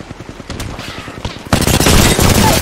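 Gunfire in the Apex Legends battle royale shooter: scattered shots at first, then a dense, loud burst of rapid automatic fire that carries to the end, with no talk over it.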